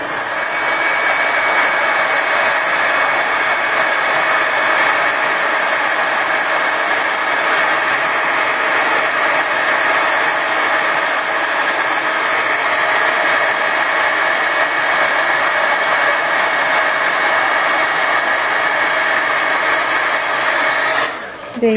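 Heat embossing tool blowing steadily at close range, a loud continuous whirring hiss lasting about twenty seconds before it clicks off, no voices.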